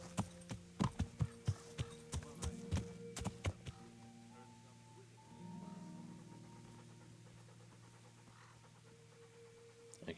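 Horse hooves clip-clopping in Kingdom Come: Deliverance, a quick run of loud hoof strikes that slows and stops, followed by the horse panting and snorting over a quiet ambient bed.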